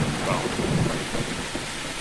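A thunderstorm in the video game Don't Escape: steady, dense rain hiss with a low rumble of thunder, loud and continuous throughout.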